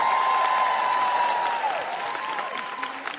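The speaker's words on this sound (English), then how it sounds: "Give yourself a hand right now, please." Audience at a stand-up comedy show breaking into applause, a steady wash of clapping that holds for a few seconds, then fades slightly under a ringing tone.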